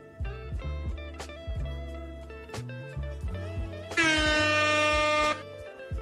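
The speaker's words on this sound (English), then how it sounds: "Get some air horns." A loud air horn blasts for over a second, cutting through a thumping, busy musical background with sharp percussive hits.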